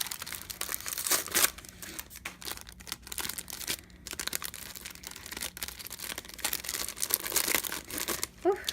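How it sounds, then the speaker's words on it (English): Crinkly plastic packaging around a Crate Paper Here + There paper collection is pulled and unwrapped up close, giving bursts of rustling, crackling and tearing at an uneven pace. "struggling to unwrap today"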